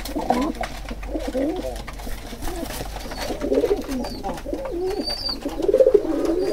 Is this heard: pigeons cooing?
yes